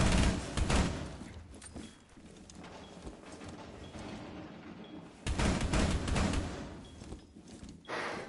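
Rapid gunfire bursts from a Rainbow Six Siege match, with a Hibana operator shooting out a window early in the round; clustered shots come in two dense volleys around a quieter middle stretch, with no voices.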